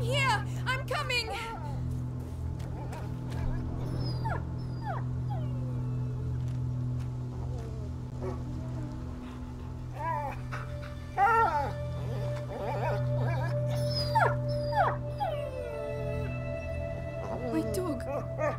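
A wounded dog in the game A Plague Tale: Innocence, with thin, rising whimpers and whines scattered over a low droning score, while character voices speak around it.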